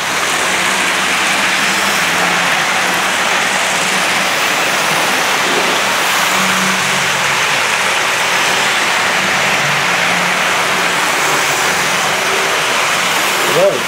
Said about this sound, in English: A lot of wheel noise as well, everyone.